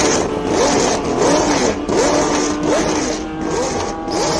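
A 1974 Tyrrell 007 Formula One car, the one Jody Scheckter raced, revving hard at the Simola Hill Climb, with repeated rising and falling engine sweeps as it shifts through gears, loud under crowd and wind noise.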